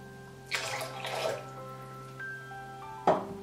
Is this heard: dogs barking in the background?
no